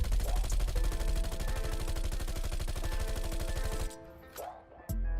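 Rapid automatic fire from a base Bizon SMG without attachments in Call of Duty Black Ops Cold War, a dense sustained burst of about four seconds that stops, followed by a short pause and a final loud crack.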